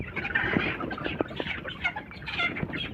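Sonali chickens on a village farm cluck in short, overlapping bursts, with a few sharper calls standing out close by against a busy background.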